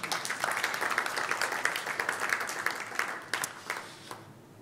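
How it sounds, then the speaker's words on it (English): An audience applauds at a tech talk after a live software test passes, a steady wash of many hands clapping that thins out toward the end. "I think you can clap too."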